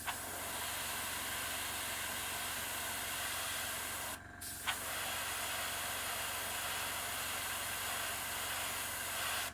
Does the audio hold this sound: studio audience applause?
no